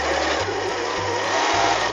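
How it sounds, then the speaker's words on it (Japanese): A Janome 1200D Professional serger runs steadily while stitching an outward corner, a loud continuous mechanical whirring with a fast rhythmic chatter and no speech. "このままの状態で縫い進めます。"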